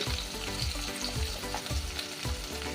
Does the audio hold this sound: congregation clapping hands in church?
no